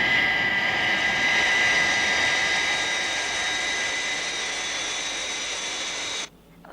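A jet aircraft engine in flight gives a steady, loud roar with a sustained high whine that holds evenly for several seconds, then cuts off abruptly.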